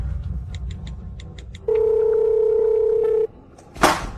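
A steady telephone dial tone sounds for about a second and a half, clear and loud over a quiet room hum, followed by a brief noisy burst at the end.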